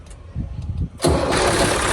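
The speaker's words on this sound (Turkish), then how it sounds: "Evet arkadaşlar şimdi traktörümüzü çalıştırıyoruz." A Massey Ferguson 240 tractor engine cranks with a short, uneven starter churn, then catches and settles into a loud, steady diesel idle close by.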